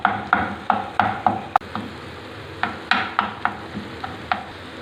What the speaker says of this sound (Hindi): इस तरह इसको सही तरह से मिक्स करें ताकि अंडा लगे नहीं और सही तरह से पक जाए।